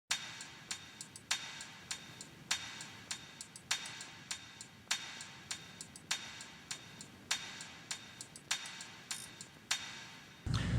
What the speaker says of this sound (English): So the hi-hats alone, they sound like this.